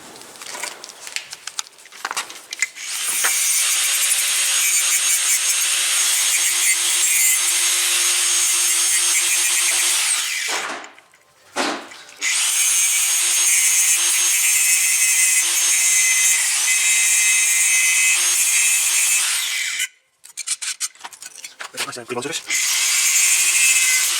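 Rough edges of a steel patch on a chassis repair are ground down with a power tool, two long loud harsh grinding runs separated by a brief pause, with scraping at the start and end.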